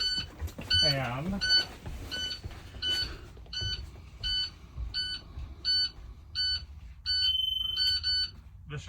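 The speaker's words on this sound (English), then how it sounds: "The buzzer is sounding" A school bus child-check alarm buzzer sounds a steady series of short electronic beeps in a regular rhythm, with a brief spoken word near the start.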